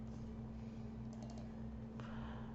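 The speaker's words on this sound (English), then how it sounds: "we will just type the word Fun Day" Quiet keystrokes on a computer keyboard, a short burst of light taps with a slightly louder click near the end, close and alone over a low hum.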